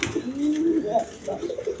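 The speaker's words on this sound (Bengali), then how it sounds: "এখানে এক পেয়ার রাজগোল্লা কবুতর আছে, একদম কোয়ালিটি সম্পন্ন কবুতর" A pair of red Rajgolla pigeons coo close by, giving low, rolling, throaty calls that rise and fall across a couple of seconds.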